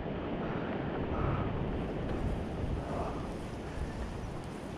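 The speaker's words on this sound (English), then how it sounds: "Hearing the waves of the ocean," Ocean waves near Kapiolani Park in Honolulu, heard during a marathon as a steady, loud broadband wash that runs the whole way through with wind rumble and no talking.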